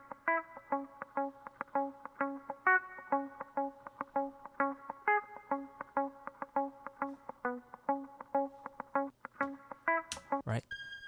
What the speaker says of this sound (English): I also added this little guitar riff